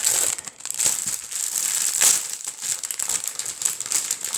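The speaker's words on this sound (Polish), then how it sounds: "najpierw sobie otworzymy z multipaków naklejki, a później te luźne." FIFA 365 sticker multipack packets torn and crinkled open up close, a steady loud crackle of plastic wrapping throughout.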